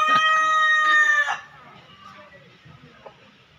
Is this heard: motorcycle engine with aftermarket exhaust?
no